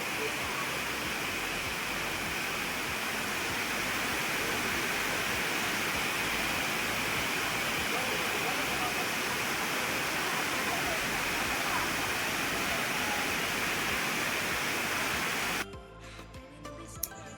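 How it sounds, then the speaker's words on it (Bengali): Elephant Falls, a multi-tiered waterfall in Meghalaya, roars as a steady, loud broadband rush that fills the scene without pause before cutting abruptly to quieter background near the end. "জাস্ট ঝর্ণাটা একটু দেখুন"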